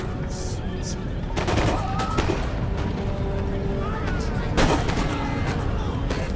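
Massed musket volleys crackle in Empire: Total War as ranks of line infantry fire during the Battle of Camden, loud overlapping bursts of gunfire over a steady roar of battle noise.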